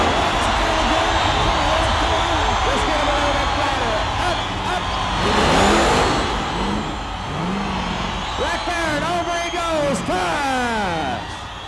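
A 512 cubic inch Chevrolet-powered monster truck of 1,500 horsepower roars in an arena with a loud, sustained engine rumble that swells midway. A crowd is heard faintly, and an announcer speaks over it at the end.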